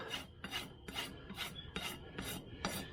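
A rasp files a horse's hoof during a barefoot trim, with seven even, rhythmic scraping strokes close up. Each stroke is a distinct rasp followed by a short gap, and no one speaks.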